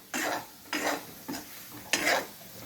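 Fried potatoes stirred in a pan with a utensil: four distinct scraping, rustling strokes at roughly even intervals, each a short close swish over a faint background sizzle, with quiet gaps between and no voices.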